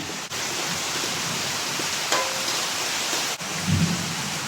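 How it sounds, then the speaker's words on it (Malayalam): Heavy rain pours steadily while thunder rumbles low in the background, a continuous wash of storm noise with no voices. "ഇടിയും കൊള്ളിയാനും ഒക്കെ ഉണ്ട്"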